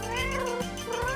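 A kitten or cat gives a drawn-out, close meow with a slight wavering pitch, heard clearly on its own with no talking.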